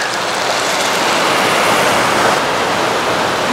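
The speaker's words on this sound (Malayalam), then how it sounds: "ഇനി കുറച്ച് വെള്ളം ഒഴിച്ചൊന്ന് വേവിക്കുക." Water is poured into a pan of egg curry with ground masala to cook, a loud, steady rushing splash that runs unbroken from start to finish with no talking.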